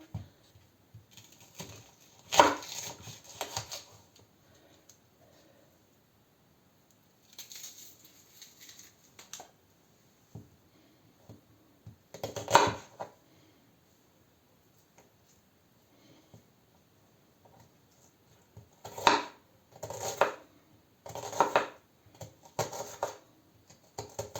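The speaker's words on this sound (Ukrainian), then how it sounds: "Так, нарізаємо цибульку" Onion being chopped with a knife in a home kitchen, scattered bursts of quick sharp taps on a board separated by quiet pauses, fairly faint with no talk.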